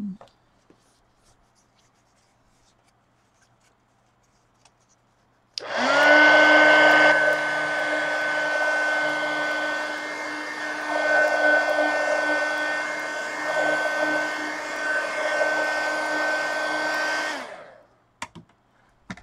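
After a quiet start, a dryer switches on to dry a mixed media collage pumpkin, giving a steady, loud whirring hum for about twelve seconds before cutting off.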